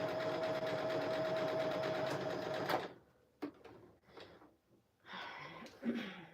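A sewing machine quilts hearts and loops into a quilt, driven by hand without automation. It gives a steady close mechanical whir for a few seconds, then stops, leaving faint rustling and soft handling sounds.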